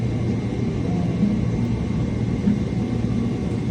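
An airplane landing at Istanbul fills the cabin with a loud, constant low rumble and engine roar, steady throughout with slight swells.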